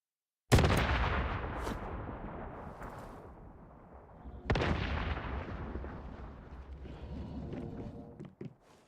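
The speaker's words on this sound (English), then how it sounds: "I just blew that grenade up in my face because I forget when you cook them they explode" A grenade blows up at close range in the game Once Human: a sharp, loud blast that rumbles away, followed a few seconds later by a second heavy explosion that also decays slowly.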